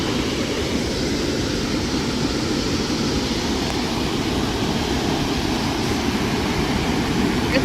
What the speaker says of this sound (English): I can feel the vibration of the water from up here. But there's a water drain